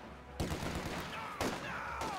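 Rifle fire from a Soviet scout sniper team in a real-time strategy game, two sharp shots cutting through a dense wash of battle noise and rumbling engines.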